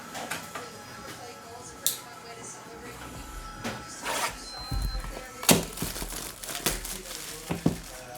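Foil trading card packs from a 2021 Bowman Chrome HTA box being torn open, close crinkling and ripping with sharp crackles, mixed with a voice talking.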